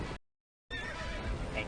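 A horse named Hank whinnies loudly and close. A short silent gap breaks the sound, and then a long shaky neigh follows.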